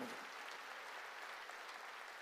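A church congregation applauds together during a sermon, a dense, steady wash of many hands clapping that fills the room without a break and carries no speech.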